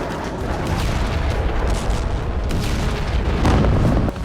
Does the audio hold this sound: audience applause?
no